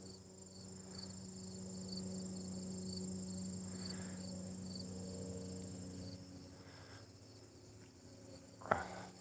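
Honey bees fanning their wings at a hive, a steady close buzzing drone with a brief louder burst near the end, while people talk nearby.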